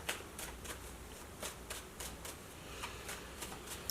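Tarot cards shuffled by hand to draw an advice card, a quiet, close series of crisp riffling bursts repeating at an irregular pace.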